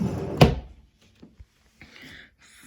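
A dresser drawer gives a sharp wooden thunk close by, followed by fainter scraping and small knocks as it slides and settles in a quiet room.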